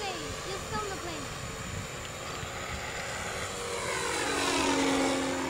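A small RC Cub model airplane flies past at night, its propeller engine a steady buzzing drone that swells louder toward the end as it passes close overhead, with people talking underneath.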